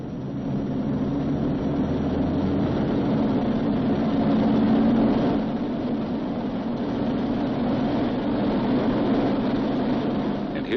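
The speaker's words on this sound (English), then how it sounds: "He releases the parking brake and adjusts the engines for full military power." Boeing B-29 Superfortress radial engines run up to full military power for takeoff, giving a steady, loud, heavy droning roar with a low rumble that holds constant throughout.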